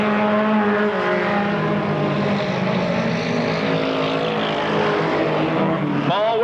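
Race cars roar steadily around the track in a close pack of engines near the finish of a race. A loud, continuous drone rises and falls in pitch as they pass.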